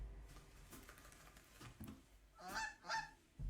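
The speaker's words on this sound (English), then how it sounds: "It's the geese!" Geese honk in the video game BackBone, two loud close honks near the end following soft rustling and clatter.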